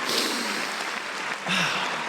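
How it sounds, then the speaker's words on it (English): A crowd applauds in a steady wash of clapping that holds throughout, swelling slightly near the end. "we should all wake up in the morning to like that applause"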